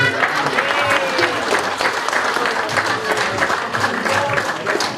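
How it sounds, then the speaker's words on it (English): Crowd applause fills a birthday celebration, a dense, steady wash of clapping hands that holds at full strength throughout without pause. "let's give them a round of applause"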